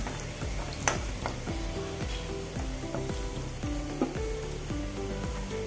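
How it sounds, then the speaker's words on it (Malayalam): Spring onion stalks sizzle steadily in a pan with salt while a spoon stirs them, leaving repeated scraping strokes and occasional soft clinks over the continuous close frying hiss. "ഉപ്പ് ഇട്ട് കൊടുക്കാം ഇളക്കി കൊടുക്കാം ഒന്ന് വാടി വന്നാൽ മതി"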